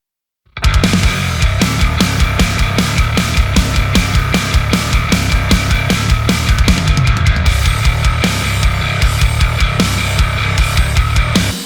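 Heavy metal drums pound with punchy, rapid kicks and crashing cymbals, driving along with a thick, growling bass guitar through Line 6 Helix Native, loud and continuous throughout.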